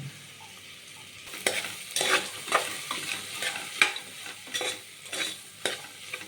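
Ginger garlic paste fries in a pan for pulao, making a soft background sizzle that is punctuated by louder spatula stirs and scrapes at irregular intervals. No one speaks.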